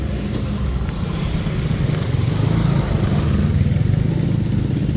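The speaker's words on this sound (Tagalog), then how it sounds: "Medyo maliit yung kalsada dito pero maraming dumadaan kasi traffic road talaga to" Motorcycles and other traffic passing along a busy narrow road, a steady nearby engine drone that swells as vehicles go by, with no talking.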